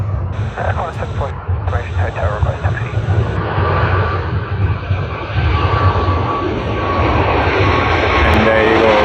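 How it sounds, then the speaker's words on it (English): Qatar Airways airliner departing Sydney Airport, a steady, loud jet engine roar building through the whole stretch, with voices and radio chatter over it early on. "lovely, lovely departure of Qatar Airways"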